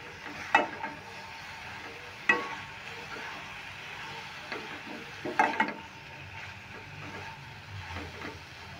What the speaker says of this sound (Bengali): হলুদটা দিয়ে একটু নেড়ে নিচ্ছি।